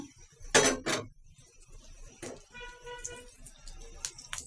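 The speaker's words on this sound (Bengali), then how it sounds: "চুলায় আমি কড়াই বসাই দিছি" A metal wok clanks onto a stove with a couple of brief hard knocks, close but fairly quiet, followed by lighter kitchen clatter.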